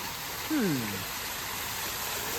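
Steady broadband water rush from a lit fountain, constant and close, with a brief voiced exclamation-like sweep near the start.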